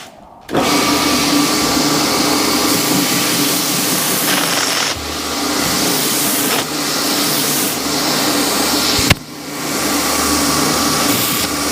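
A 120-grit flap wheel on a power tool grinds the inside of a braided spur band. The loud, steady whine runs continuously, with a few brief dips and surges as the wheel catches and lifts off the metal.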